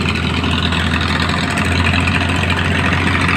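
Several sand mining engines run steadily beneath the Gede Besi bridge, heard about 50 to 60 meters away as a continuous low droning rumble with no pauses or talk.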